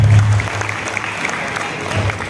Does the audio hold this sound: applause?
yes